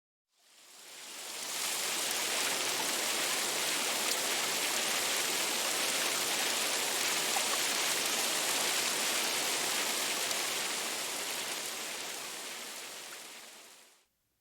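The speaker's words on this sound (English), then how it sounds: "But here's about 20 seconds of that rain." Steady rain falls as a dense, even hiss that fades in, holds at constant loudness for about twelve seconds, then fades out, with no voices.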